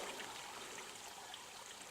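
A clean, healthy forest stream flowing along the Black Forest Trail, a soft, steady, fairly faint rush of water with no breaks.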